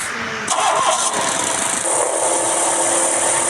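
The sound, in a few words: motorbike engine in the video game Minecraft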